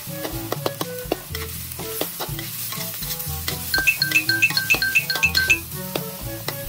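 Beaten egg and pork stir-fried together for egg fried rice: a close, continuous sizzle under busy metallic scraping and tapping of a spatula on the pan, turning into a quick rhythmic run of scrapes toward the end.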